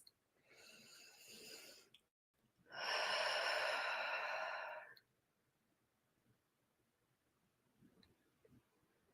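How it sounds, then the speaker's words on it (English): Two slow, deep breaths, each a long airy exhale heard close and quiet, the second fuller and louder, followed by near silence with faint small sounds. "take a few cleansing breaths"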